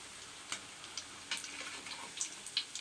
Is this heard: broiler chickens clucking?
no